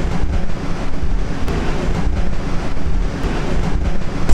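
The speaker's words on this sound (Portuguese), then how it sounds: "Esse barulho de vento aí que vocês devem estar ouvindo é por causa que tem aqui um duto" Loud, steady rushing air noise from a Nissan 350Z's cooling duct, a broad roar like wind through a duct, continuous with no talking.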